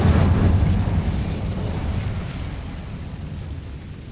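An Incendio fire spell blast in a Harry Potter video game, a deep booming burst loudest at the onset, then a rumbling roar that slowly fades over several seconds.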